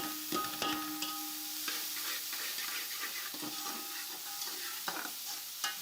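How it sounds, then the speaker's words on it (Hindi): Carrots fry in a pan after peas, giving a steady low sizzle with repeated scraping stir strokes and occasional clinks of a utensil against the metal, close and moderately quiet, with no voices. "तकरीबन इसको भी 7-8 मिनट के लिए फ्राई करेंगे गाजरों को"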